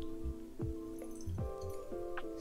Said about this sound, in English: We have a little bit of extra water on top here. So I'm actually going to pour that off.